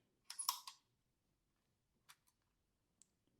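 A quick burst of mechanical clicks as the aperture and shutter of a Kowa Six medium-format camera release, then a couple of fainter isolated clicks in near silence.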